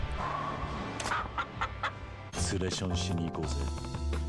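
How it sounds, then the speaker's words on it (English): A chicken in the video game Yakuza Like a Dragon clucks in short bursts over busy, steady game music, with speech-like sounds mixed in and a denser layer of sound arriving partway through. "hello, chicken. Your name will be Nugget."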